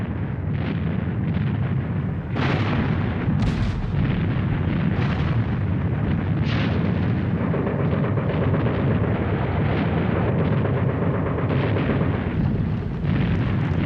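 Dense, continuous rumbling of artillery and machine gun fire, loud and sustained with repeated booming blasts layered throughout the battle din.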